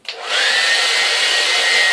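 A hair dryer on a low heat, low setting whirs steadily close by over ostrich feathers, a broad airy blowing hiss that starts abruptly and holds an even level throughout.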